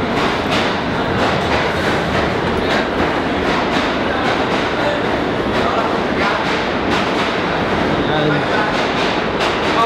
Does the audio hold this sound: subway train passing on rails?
yes